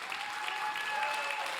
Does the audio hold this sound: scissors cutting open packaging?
no